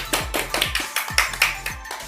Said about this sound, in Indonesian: Tepuk tangan untuk Jessie.